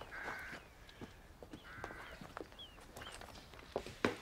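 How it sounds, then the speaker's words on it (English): A hyacinth macaw gives two or three harsh, raspy squawks, faint and spaced apart, with soft knocks and shuffling around them. "It's a hyacinth macaw."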